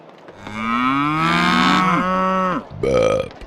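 A single cow gives a long, close, drawn-out moo that dips in pitch, then a short second bellow after a brief pause.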